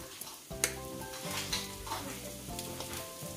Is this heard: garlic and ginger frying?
yes